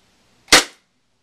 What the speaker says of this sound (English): I'm gonna fire a couple in semi.